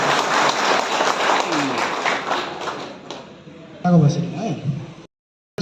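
Applause from an audience at a dumper and JCB driver union conference in Pasighat, East Siang, a dense clapping wash that fades, with voices speaking over and after it before a brief cut to silence.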